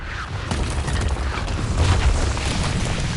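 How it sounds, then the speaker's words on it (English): Bombs dropped from the airship Skyfire explode in deep, rumbling booms in a World of Warcraft cinematic, loud and sustained with dense low-end rolling throughout. "The Skyfire is bombing us."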